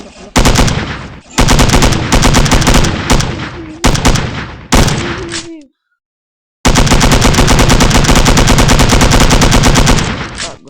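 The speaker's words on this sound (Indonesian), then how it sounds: "Ini menembak biasa ya." Rapid automatic gunfire from a mobile shooting game comes in loud, dense bursts separated by short pauses, with one longer silence before a sustained volley.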